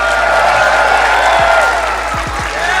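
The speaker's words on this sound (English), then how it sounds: "Can we please give Foxy a round of applause for his guest spot on the analyst desk?" Arena crowd at an esports major quarterfinal in Atlanta applauding and cheering for an analyst, a steady wash of clapping and crowd noise filling the space with no individual voices standing out.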